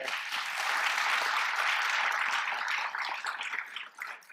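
An audience at a county budget address claps, a broad, even wash of many hands that stays full for a few seconds before thinning and tapering off near the end, with no voices over it.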